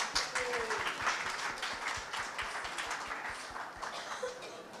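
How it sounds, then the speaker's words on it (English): A crowd applauding steadily, dense clapping at moderate distance that keeps up throughout and eases slightly toward the end. "Let's give her another round of applause"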